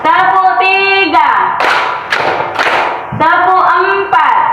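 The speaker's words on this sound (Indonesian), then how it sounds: "Masih ingat kan tepuk hitungan 1 sampai 5." A classroom of students performs counting claps, loud close bursts of rhythmic clapping between sung and chanted voices.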